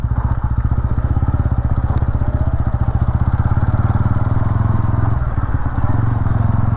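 A TVS Ronin 225 motorcycle thumps along off-road, a loud, close, rapid single-cylinder putter with rattling and crackle, steady with a brief dip in rhythm near the end.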